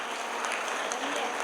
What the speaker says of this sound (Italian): Facciamo un applauso finale.